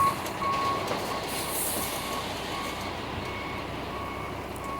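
A concrete truck reversing on a site, with its backup alarm beeping in a regular rhythm over a continuous diesel engine rumble, moderately distant and alone.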